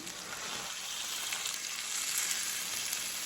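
Ginger-garlic paste water hits hot frying spices in a pan while drumstick curry is cooked, giving a steady, close, loud sizzle that swells slightly and holds for about three seconds, with no talking.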